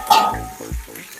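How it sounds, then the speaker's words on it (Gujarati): Red chillies hit hot oil with mustard seeds, cumin and turmeric, giving a brief sharp sizzle followed by a softer crackle and a low clink of a pan, close up and loud. "આમાં તમે જોઈ શકો છો આપણા મરચાં છે તે તળાઈ ગયા છે"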